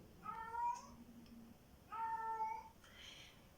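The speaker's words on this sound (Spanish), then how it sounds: "Eso es un gato, un celo." A cat in heat lets out two long, drawn-out yowling meows with a short pause between them, clear and moderately close, against quiet background.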